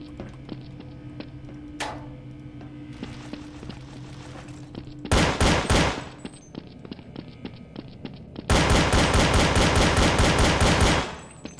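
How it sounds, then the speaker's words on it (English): Pistol gunfire from Counter-Strike Source sounds played inside Half-Life Source, with a couple of isolated shots and then two loud rapid bursts of repeated cracks, close and dry, with no talk. "it's using the Counter-Strike pistol sound"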